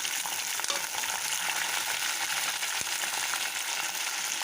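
Crushed garlic and chopped onion fry in hot oil in a pan for a Tamil sundakkai kaara kuzhambu, giving a steady, close, hissing sizzle with a faint stir or clink partway through and no talking.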